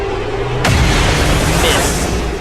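A soldier fires a shot at a chrysalid in the video game XCOM 2, a sudden loud boom-like blast that cuts in sharply and rings on as a dense roar, with a voice talking under it.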